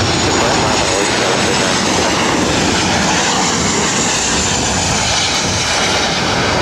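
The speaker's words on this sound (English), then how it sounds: "This is Southwest Airlines 2577 coming in from New Orleans on a 737-700." Southwest Airlines Boeing 737-700 landing at LAX, a loud, continuous jet engine roar that stays steady and close throughout.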